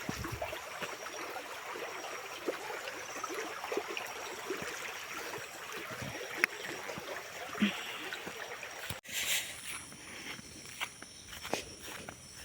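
Stream water flows steadily beside a walking person, with a continuous rushing wash and scattered footsteps crunching over it outdoors; no one speaks.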